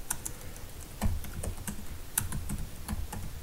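Someone types a terminal command on a computer keyboard, a close, rapid run of crisp key clicks with a few heavier thumps, like a spacebar or enter key, and no voices.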